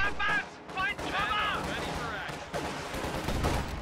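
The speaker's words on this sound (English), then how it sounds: "Taking small arms fire!" Rifle squad small arms fire in a real-time strategy game battle, crackling volleys of gunshots mixed with distant rumbling, heard under a game voice line and some talk.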